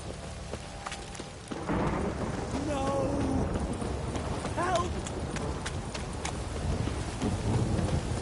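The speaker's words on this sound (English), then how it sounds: "Don't stop raining, my arse will rot off." Steady rain hisses with low rumbling thunder in The Witcher 3, alongside clopping hoofbeats and brief voice-like tones over a constant wet backdrop.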